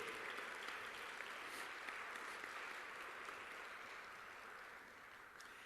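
Sustained audience applause for spelling bee contestants fills the room, a dense steady wash of many hands clapping that holds evenly and tapers slightly near the end.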